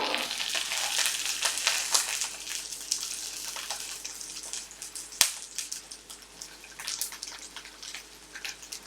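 Eggplant fries in a hot pan for miso eggplant, giving a steady close sizzle with crackling pops throughout and one sharp tap midway, no talking.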